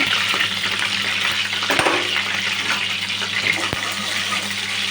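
Mustard seeds sizzle and crackle steadily in hot oil for a fish curry, a continuous hiss with a few sharper pops, loud and close.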